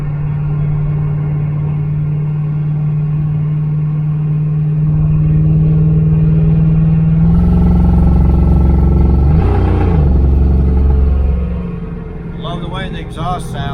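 A 1972 Chevy Nova's exhaust, fitted with a do-it-yourself X-pipe kit and cheap turbo mufflers, rumbles steadily at idle, then swells into a louder, deeper drone as the engine revs before easing back down.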